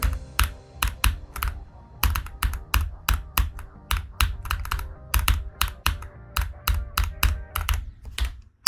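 A computer keyboard clicks rapidly and rhythmically while someone plays a fast rhythm game at around 180 BPM, crisp, close keystrokes coming in quick bursts with no talk.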